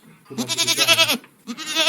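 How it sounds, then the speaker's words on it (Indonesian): A goat bleats twice in quick succession from a played sound file, a wavering, quavering cry up close, the second call starting after a brief pause. "Kambing,"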